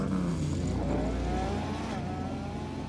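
A Lamborghini Revuelto V12 engine drones steadily and loudly, its pitch climbing smoothly as it revs, with no voices over it.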